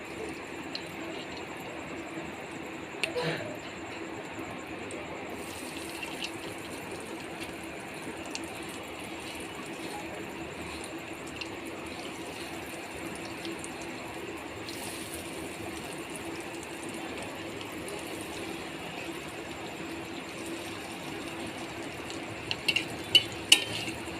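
Steady, continuous sizzling of Bombay duck fish fingers frying in hot oil, with a few light clinks toward the end.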